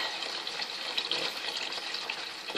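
Running tap water gushes steadily as makeup brushes are rinsed under it, a continuous close splashing hiss with no pauses.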